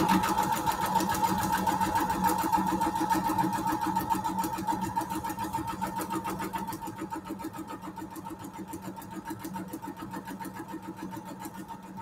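A sewing machine stitching a foundation paper pieced quilt runs in a steady rapid mechanical whir with a fast regular needle rhythm, close and continuous, easing slightly in loudness toward the end.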